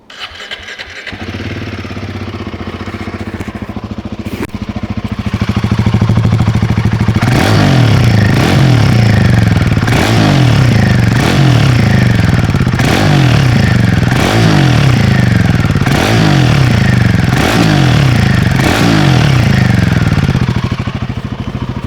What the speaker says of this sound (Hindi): तो ये था कुछ इस बाइक का एग्जॉस्ट नोट।